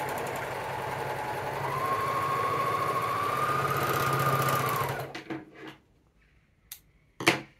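A new sewing machine stitches fabric in a steady, loud mechanical whir for about five seconds, with a sustained motor tone riding on top, then stops, leaving a few soft clicks and handling taps.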